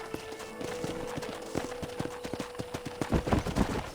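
Horse hooves gallop in Red Dead Redemption, a steady clip-clop rhythm of hoofbeats growing louder and heavier toward the end, with a faint steady tone and background ambience underneath.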